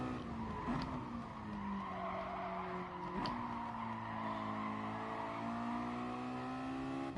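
Race car in GT Sport braking hard with a sustained tire skid and squeal over a steady engine drone, the pitch sliding down as the car slows, loud and continuous.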